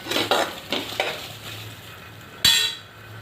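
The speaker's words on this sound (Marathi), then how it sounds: "हलवत राहायची जेणेकरून खालून करपणार नाही, एकसारखी भाजून निघेल।" Okra roasting in a pan while being stirred: a steady sizzle under repeated scraping strokes of the spatula, ending with a sharp clink against the pan.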